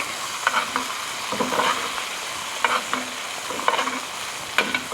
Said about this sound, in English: taking the butter that's browning nicely, moving it up and over the steak